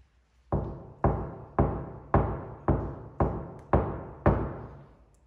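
A newly painted Land Rover Defender door panel with no sound deadening is knocked eight times at a steady pace, each hollow, drum-like thump ringing and decaying before the next, close and loud with no talk.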